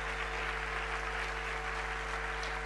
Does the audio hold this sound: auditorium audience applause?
yes